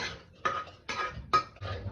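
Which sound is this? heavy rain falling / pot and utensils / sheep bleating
pot and utensils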